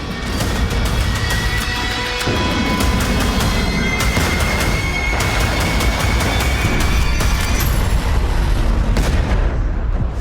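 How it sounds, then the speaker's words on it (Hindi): Missile attack explosions: dense rumbling blasts and booms recur throughout, loud and continuous, with a steady roar of noise between the heavier thuds. "हमले की जगह पर थोड़ी थोड़ी देर में ब्लास्ट हो रहे हैं।"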